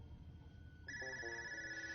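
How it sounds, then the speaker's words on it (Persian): A telephone in a house rings with a sudden, steady electronic trill that starts partway through and continues unanswered over a quiet background. "اینقدر خدمتگار داریم و کسی به تلفن جواب نمیدهد"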